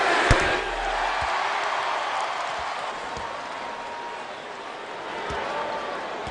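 A basketball arena crowd roars steadily for Kobe Bryant in a game against the Raptors, a broad, sustained swell of cheering with a few sharp thumps near the start.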